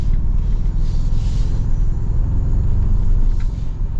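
A 2026 Toyota Tacoma Trailhunter with a 4-cylinder turbo engine accelerates, producing a loud, steady low engine rumble with road noise, heard close and without talk.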